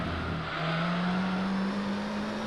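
Race car in Gran Turismo 3 career mode with worn tyres, engine holding a steady droning note that rises slowly in pitch as it accelerates, continuous and fairly close with no talking.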